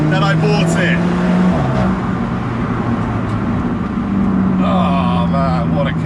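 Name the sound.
Alfa Romeo 4C sports car being driven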